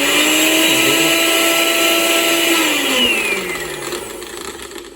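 An Estar 4-in-1 juicer blender motor, locked on to run continuously, gives a loud, steady high whine close by, then slows and winds down toward the end.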